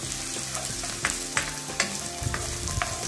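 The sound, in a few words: ginger sautéing in a pan for chicken tinola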